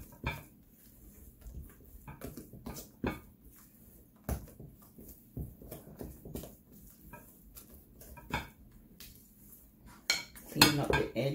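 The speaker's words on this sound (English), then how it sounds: "Just cut and fold, small amount, and you just do it gradually" A spatula folds carrot pecan cake batter in a mixing bowl, giving soft scrapes and intermittent clinks against the bowl, quiet and close, with occasional sharper taps near the end.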